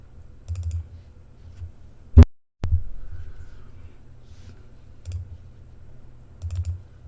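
A computer keyboard gets a few sparse, close key presses, with a sharp click partway through, over a low background hum.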